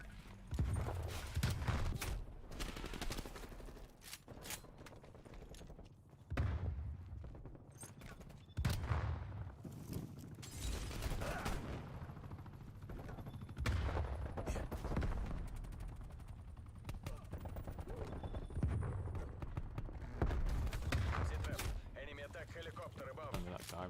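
Gunfire in a Call of Duty Cold War multiplayer hardpoint match: repeated bursts of rapid shots and heavy booms recur through the stretch, mixed with game sounds and spoken voices.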